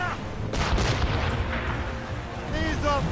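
Ship cannons fire in a naval battle in Assassin's Creed Rogue, heavy booming blasts rolling over a dense game soundscape with crew shouts and chirping effects near the end.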